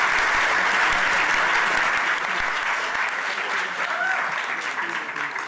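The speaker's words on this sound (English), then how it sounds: "can we please get one last big round of applause for all of our panellists today?" Sustained, loud audience applause for the panellists at a Harmony Week debate on cultural diversity, a dense wash of clapping lasting the whole stretch and easing slightly toward the end.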